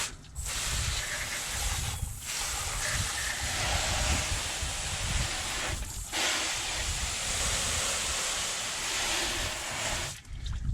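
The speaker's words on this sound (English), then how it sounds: "We're going to go ahead and start rinsing." Water sprayed through a car's engine bay while rinsing off cleaner makes a loud, steady hissing spray that briefly cuts out three times, with no voices over it.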